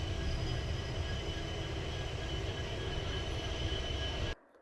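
A train on the Goa to Dudhsagar route through the Western Ghats, its wheels and carriages giving a loud, steady rumble close by that cuts off abruptly at the very end.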